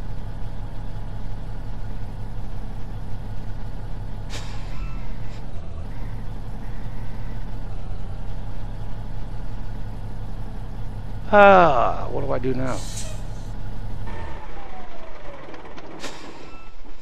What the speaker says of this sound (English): So that's what my modded truck will do. And that's, like I said, that's pulling a 70-ton load.